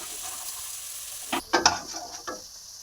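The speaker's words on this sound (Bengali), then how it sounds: "ক্যাপসিকাম, কাঁচা লঙ্কার মটরশুঁটি ভেজে নিয়েছি" Capsicum, green chilli and green peas frying in a wok: a steady sizzle that breaks into a few sharp stirring scrapes and clatters near the end, with no talk.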